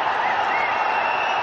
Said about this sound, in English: That's got the Indian crowd going